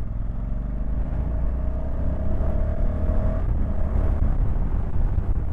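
2024 Honda CRF1100L Africa Twin motorcycle rolling on the throttle in third gear on a country road, a steady loud engine drone with a slowly rising tone under heavy wind noise.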